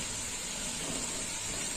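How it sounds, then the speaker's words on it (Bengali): Balls of raw green banana frying gently in oil over low heat, giving a steady, soft, even sizzle with no talk. "বলগুলো এরকম হালকা আঁচে ভাজতে হবে"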